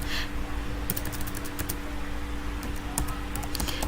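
Keys on a computer keyboard are typed in short bursts of crisp clicks, a few quick taps clustered together and then scattered single strokes, over a steady low electrical hum.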